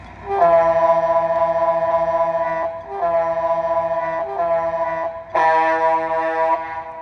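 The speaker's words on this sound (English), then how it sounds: "So here's the horn." A model train horn sounds three loud, sustained blasts, alone with short pauses between them; the last blast is slightly higher and brighter.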